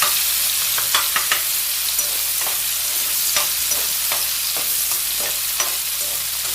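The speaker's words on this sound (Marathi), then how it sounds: "कांदा आपण चांगला फ्राय करून घेणार आहोत" Chopped onion frying in a pan with a bay leaf, a steady close sizzle broken by scattered light scrapes and clicks of stirring, no voices.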